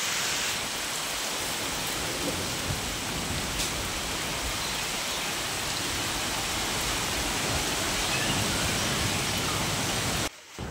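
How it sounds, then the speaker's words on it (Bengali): Heavy rain pours down steadily during a storm, with hailstones falling outdoors; a dense, loud, continuous hiss fills the whole stretch and cuts off abruptly near the end. "দেখো আমাদের এখানে প্রচণ্ড পরিমাণে বৃষ্টি হচ্ছে, তার সাথে শিল পড়ছে"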